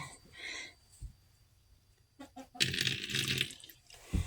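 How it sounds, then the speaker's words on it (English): Water poured or splashed into a chicken run's water container, a rushing burst lasting about a second before trailing off, after quieter handling noises. "I'm going to refill the water."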